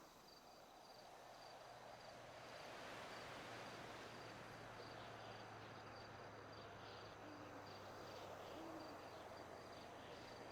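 Owl hooting at night in GTA V NoPixel roleplay, faint repeated hoots far off over a steady bed of crickets and insect hum, with no one speaking.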